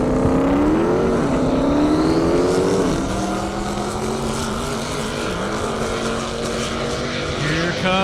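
A 2,000 horsepower C7 Corvette races past on a half-mile airstrip at a 200+ mph event, a loud engine roar whose pitch shifts as the car passes, then a sustained lower drone.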